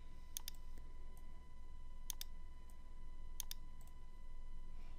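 A computer mouse clicks three times in quick double taps, spaced a second or more apart. The sharp, crisp clicks sit close over a quiet background hum.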